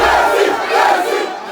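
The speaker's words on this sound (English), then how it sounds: "Messi waved to cheering fans from the window of Le Bourget Airport" Fans at Le Bourget Airport on the outskirts of Paris cheer Messi: a loud, dense roar of many shouting voices that holds steady for the whole moment.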